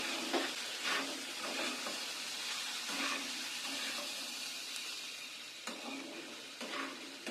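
Fried potato and eggplant stirred in a pan with salt and turmeric: a soft, steady sizzle with a rhythmic series of scraping strokes, close but quiet, and no talking.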